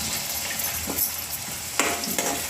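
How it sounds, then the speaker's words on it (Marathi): Masala frying in oil in a pan for a restaurant-style paneer mixed vegetable dish, a steady close sizzle with a few stirring scrapes on top. "तेल सुटेपर्यंत आपण आता मसाला भाजून घेऊया."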